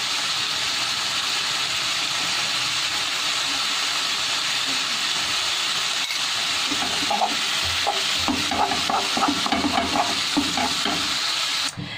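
Small fish sauté with garlic in a frying pan, giving a loud, continuous sizzling hiss throughout, with scraping stirring sounds joining in during the second half.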